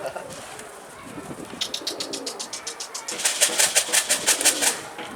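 Pigeon cooing in a series of rhythmic pulses that grow louder toward the end, with softer bird sounds before and faint background noise throughout.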